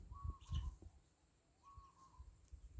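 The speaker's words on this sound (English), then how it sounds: "That's the noise I like. Just a few birds, a few animals." A few birds call outdoors at an off-grid Australian property, two clear whistled notes repeating some distance away over faint background noise and low rustling bumps, with no one speaking.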